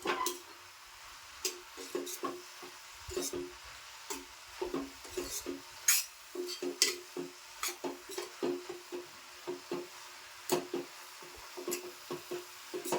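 Fenugreek leaves (methi) being stirred in a pan give repeated scraping and clicking strokes in an irregular rhythm, close and fairly crisp, over a faint background sizzle.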